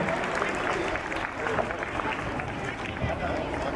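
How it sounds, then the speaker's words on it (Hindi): Applause rises from an audience welcoming guests at a school annual day celebration, a steady wash of crowd clapping with a voice speaking over it. "उनका भी जोरदार तालियों से स्वागत करते हैं"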